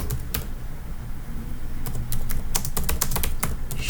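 Rapid clicking of keys as someone types a description on a computer keyboard, steady close keystrokes with short bursts and brief pauses, no talking.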